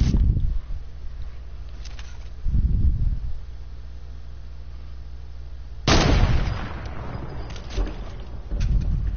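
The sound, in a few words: sniper rifle shot in a video game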